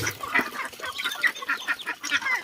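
Chickens clucking in a farm setting, a steady run of short, fairly close clucks and calls across the whole stretch, with no talk over them.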